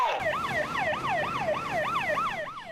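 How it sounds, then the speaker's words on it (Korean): A coast guard boat's siren wails steadily on the water during a chemical tanker emergency, a loud, repeating rising-and-falling tone that cycles about every third of a second, with no voices over it. "긴급 출동한 해경배가 사이렌을 울려 주변 선박의 접근을 차단합니다."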